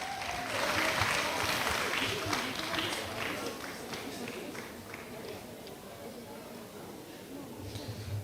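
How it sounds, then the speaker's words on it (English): Audience applause at a girls' STEM camp closing ceremony in Ghana, a dense, steady patter of many hands that swells early and then settles at a moderate level while voices talk over it. "Please clap for them again."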